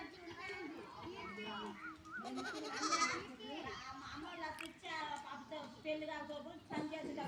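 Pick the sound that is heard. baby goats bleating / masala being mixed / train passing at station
baby goats bleating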